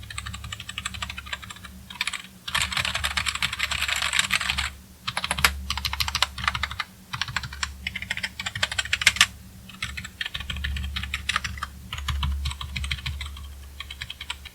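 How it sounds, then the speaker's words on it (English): The main keys of a SteelSeries budget gaming keyboard clatter in quick bursts of continuous typing, close and crisp, with brief pauses between runs of keystrokes. "let's have a look at those keys."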